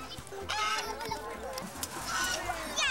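Excited goose honks, squawks and clucks, fairly close, with some talking in the background.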